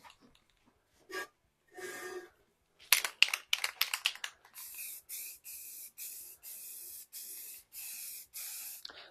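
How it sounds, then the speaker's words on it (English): A spray can lays a light coat of primer on valve covers in a run of short hissing bursts, each about half a second, evenly spaced and close, after a few softer handling noises. "we're just going to do kind of a quick light coat of primer"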